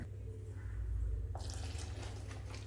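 Water is poured into flour for batter in a short, quiet stream, starting partway through with a bright splashing hiss over a low background hum.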